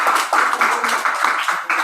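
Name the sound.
audience applause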